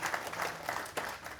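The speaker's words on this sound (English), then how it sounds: "If you will give him a round of applause for all his answer." A short burst of audience applause at an information session in Kyogle, moderately faint and steady, with no voices.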